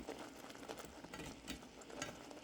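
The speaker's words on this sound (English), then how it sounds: "So I'll be stirring like crazy." Peanut butter chocolate mixture for no-bake cookies is stirred hard in a pot, a steady scraping and soft bubbling texture that runs continuously with no talk.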